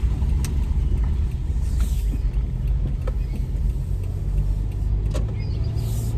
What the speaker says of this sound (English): We're driving down every road in Auburn today